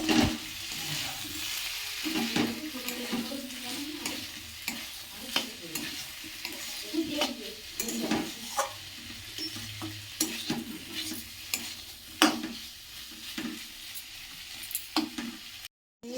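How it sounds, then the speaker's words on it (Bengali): Potatoes and bitter gourd frying in a pan, with a steady sizzle under repeated scraping and stirring clicks of a utensil, ending abruptly; no talking. "খুব ভালো করে আমি ভাজা করে নেব।"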